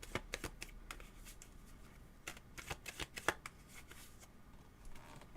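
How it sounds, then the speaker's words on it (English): A deck of tarot cards is shuffled by hand: a run of crisp riffling snaps and flutters in uneven bursts, close and fairly loud, with brief quiet gaps and no talk. "let me continue shuffling just for a second"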